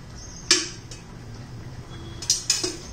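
A steel kadhai handled on a stove while heating, with sharp metallic clanks, one near the start and two close together near the end, over quiet kitchen background.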